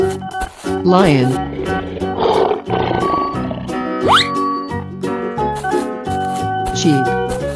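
A cartoon lion roars in a 3D animal slide video game, a drawn-out growling roar rising over bright looping game music, with a voice talking briefly.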